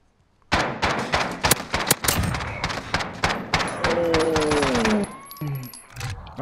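Rapid bursts of gunfire from a search and destroy match in a shooter video game, sharp repeated shots close and loud with a short pause, followed by a descending electronic tone.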